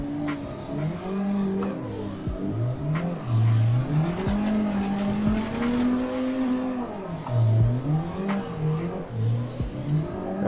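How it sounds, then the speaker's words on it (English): A Mazda RX-7 drifting in Assetto Corsa revs hard and loud, its rotary engine note rising and falling steadily, with bursts of tire squeal and skidding and no talk. "leaving me to shift up to third and e-brake in to try and close the gap on 500 so that we can hear that beautiful RX-7 sound"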